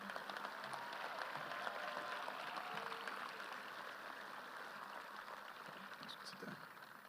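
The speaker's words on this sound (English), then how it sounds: "please give a big round of applause" A crowd at a high school graduation ceremony applauds in a continuous, distant wash of clapping, faint and steady, with a few indistinct sounds mixed in.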